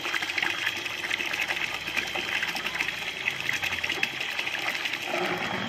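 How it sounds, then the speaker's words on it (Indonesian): Water gushes steadily through a well water filter during backwash and rinse, a continuous close, loud rushing flow with a mechanical hum underneath, no talking. "ini sekarang posisi backwash. Airnya kotor banget. Rinse lagi."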